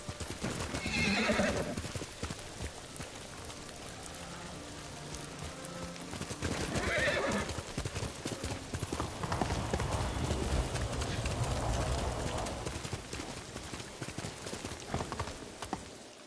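In a video game, a horse gallops with rhythmic clip-clop hoofbeats and lets out loud neighs and whinnies over a rushing, rain-like background; a voice speaks briefly.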